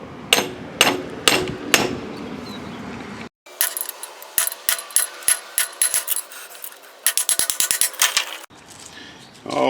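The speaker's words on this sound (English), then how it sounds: "put a brass drift punch on here, and then we'll pound this entire strut assembly out of there" Repeated hammer strikes on a brass drift punch knock a front strut assembly out of a Chevrolet Trailblazer or GMC Envoy, several sharp metallic bursts, then a pause and a faster run of ringing blows up close.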